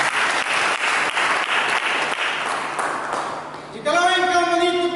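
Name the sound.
applause for Jesus in church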